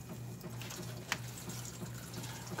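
Cold tap water runs steadily from a kitchen faucet during tamale preparation, a continuous moderate splash with a low hum beneath and one brief clink partway through.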